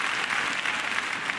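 An arena crowd applauds after Christina Gao's figure skating short program at the 2012 Skate America, a continuous, dense roar of clapping from many spectators with no break.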